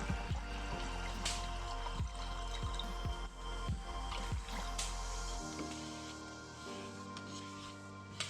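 Automotive paint reducer pours into a mixing cup of base coat, a soft close trickle with small drips and splashes over a low steady hum, fading toward the end.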